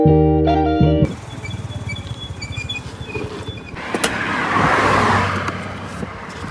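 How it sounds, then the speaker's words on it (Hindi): A scooty-style scooter pulls away and is ridden along a road, a steady motor drone with a rising whoosh of passing air and traffic after a brief harsh mechanical burst at the start, with no talking. "घर से लेकर भाई यहाँ तक तो मैंने स्कूटी ड्राइव करी थी, अब रिंकू भाई करने वाला है"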